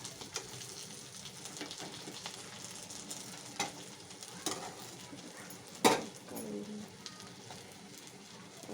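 Capsicum sabzi frying and being stirred in a pan, with a soft continuous sizzle broken by occasional spatula scrapes and clinks, heard without talk.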